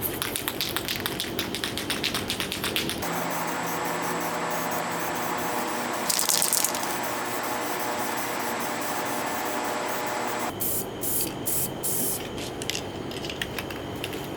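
Spray paint hisses onto a part of a rear-wheel-drive K-swapped Nissan Cefiro in short and long bursts, broken by brief pauses and clicks of the nozzle, close and fairly loud with no talk.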